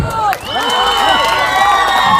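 Audience cheering and whooping with applause at an Assamese cultural performance, with loud, dense crowd noise throughout, shouts and high voices rising over the sustained roar.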